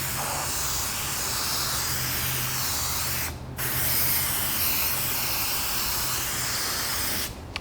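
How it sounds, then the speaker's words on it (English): Aerosol spray hisses steadily as a protective coat goes onto a car headlight during a restoration, a loud continuous burst with one brief pause midway before it resumes and then stops. "So you're gonna spray it across once in kind of a crosshatch motion"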